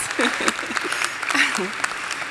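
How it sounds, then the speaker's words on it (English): Graduates at a Walden University commencement ceremony clap, a moderate steady spatter of hands running the whole way while a voice talks on top. "Clap for yourselves, yes."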